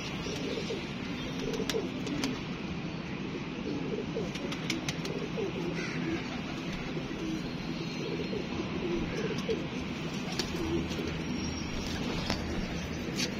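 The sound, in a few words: pigeons cooing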